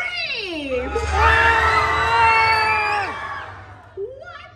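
A crowd of park guests at the Monsters attraction in Magic Kingdom lets out one long, loud sustained scream that swells and then fades, with a brief cheer-like yell near the end.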